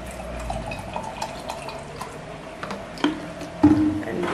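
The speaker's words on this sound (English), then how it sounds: "So just mix it up with water" Drink powder being mixed into water at home, soft wet sloshing and dripping sounds with a couple of louder splashy stirs near the end, no talking.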